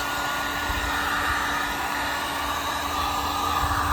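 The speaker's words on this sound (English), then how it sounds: "I was using a hair dryer, mom's hair dryer" A hair dryer, used to take a sticker off a Subaru WRX, roars steadily at close range, a constant whirring hiss with a faint motor hum and no pauses.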